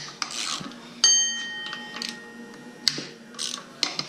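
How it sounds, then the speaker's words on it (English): A speed wrench works on water pump bolts in a Trans Am WS6 engine bay, giving metallic clinks, ringing taps and short ratcheting scrapes, close and fairly loud, with no voices. "Put that speed wrench on there."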